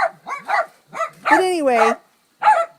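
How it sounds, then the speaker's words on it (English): Several dogs bark and yip intermittently in the background while a person talks nearby over them, the barks mixed into and between the spoken phrases. "Oh, those dogs."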